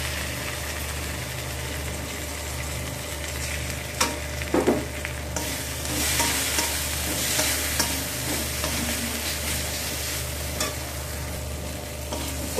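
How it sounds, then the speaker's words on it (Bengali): Ground poppy seed paste is stirred and fried in a pan for prawn posta, with a steady broadband sizzle under scraping spoon strokes and occasional louder clinks, close and continuous throughout. "পোস্তটাকে আমি একটু ভালো করে নাড়াচাড়া করে নিচ্ছি।"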